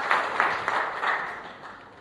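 A church congregation applauding after the pastor's call, a short burst of scattered claps rising and then trailing off over a couple of seconds, with soft murmuring beneath.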